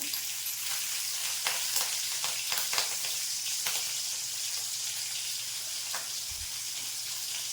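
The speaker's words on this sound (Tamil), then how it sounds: "ரெண்டு பச்சை மிளகா ஒரு வர மிளகா போடுறேன்" Green and dried red chillies, added along with cumin seeds, fry in hot oil, giving a steady, close crackling sizzle with scattered pops and light stirring clicks throughout.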